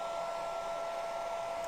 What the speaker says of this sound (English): I might just hit that with my hairdryer first to make sure it's really